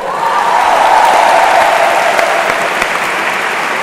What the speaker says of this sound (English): I think the applause drowned a little bit